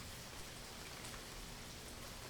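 Steady rain from a storm pours down in a dense, even hiss, constant and close with no voices over it.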